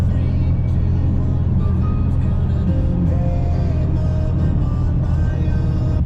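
A car cruises along a highway at about 60 mph on a long road trip, giving a steady, loud rumble of engine and road noise that runs without a break.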